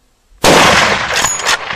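A single loud, sharp rifle shot during a safari hunt, with a sudden blast and a ringing tail that echoes across open country, close and alone.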